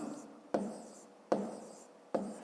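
Numbers are written on a board during a fifth-grade math lesson, heard as three quiet, evenly spaced strokes with faint scraping between them, close to the listener with no speech.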